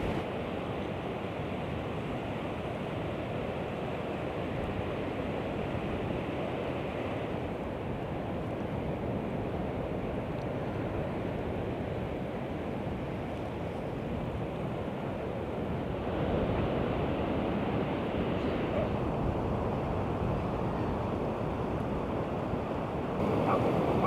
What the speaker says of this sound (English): I just thought I'd bring you some coast, just the sound of the sea